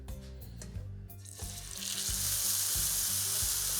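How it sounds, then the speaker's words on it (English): A venison backstrap hits a hot oiled pan and a loud, steady sizzle of searing meat builds after a brief clatter, then holds continuous and close. "We wanna get a good hard sear kind of on all four sides."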